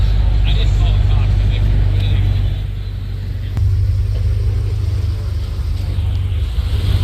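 A Porsche GT3 RS driving past at a high-end cars and coffee show, a loud, close, deep engine rumble that swells and then eases, with people talking nearby.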